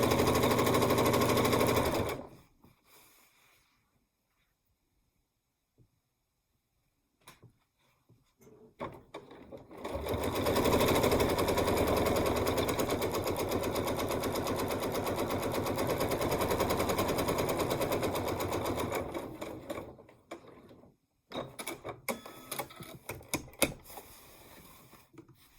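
A sewing machine stitches rows of a barn quilt together in long, loud, rapid mechanical runs, stopping and restarting with quiet gaps between bursts, close up and without voices.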